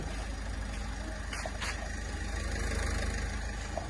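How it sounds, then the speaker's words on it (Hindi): An old Toyota Etios with about 200,000 km on it idles steadily, giving a low, even engine hum heard from outside the car, with faint clicks and no talking. "सो ऐसी इंजन नॉइज़ मिलती है आपको."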